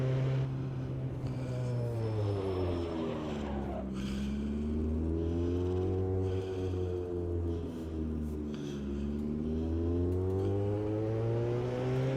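Race car engine in Automobilista 2, played on a Fanatec CSL Elite wheel, revs up and down continuously with sweeping pitch changes, loud and steady throughout without speech.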